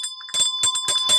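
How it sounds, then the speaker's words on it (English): A bell sound effect rings out in a quick series of bright dings, each with a sustained metallic tone, close and clear with no talking. "perhaps a ringing ding of that bell"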